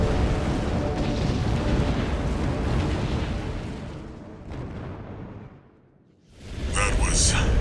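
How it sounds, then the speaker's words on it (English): A huge explosion in the video game Armored Core VI, a roaring, rumbling blast that slowly fades to near silence before a new burst of noise and crackling returns, with a voice speaking under it. "Cool guys look away from explosions."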